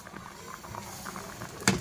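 Rice boiling in a pot on the stove gives a soft, continuous bubbling patter close by, with a brief louder clatter near the end and no speech.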